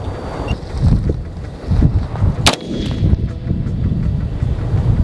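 A single sharp crack from a Bushmaster ACR rifle fired outdoors at a target, heard once midway through steady wind buffeting the microphone.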